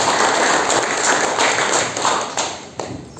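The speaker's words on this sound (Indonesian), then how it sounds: "kita beri tepuk tangan lagi" A congregation applauds during a church wedding vow ceremony, giving a steady, dense wash of clapping from many hands that fades slightly toward the end.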